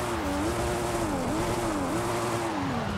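Steady car engine and exhaust drone in Forza Horizon 5, a loud, continuous tone that rises and dips slightly as the car drives on.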